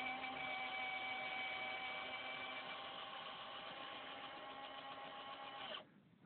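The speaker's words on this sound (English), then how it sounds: "this particular retract is binding and struggling without any load at all" The landing-gear retract on an RC Fw190 model runs with no load, binding and struggling: a faint, steady mechanical whine and buzz that holds for several seconds, then cuts off abruptly.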